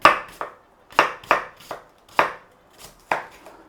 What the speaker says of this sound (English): We want to slice the onions down.